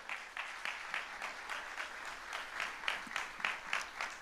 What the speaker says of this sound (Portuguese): Você pode dar um aplauso para essa palavra?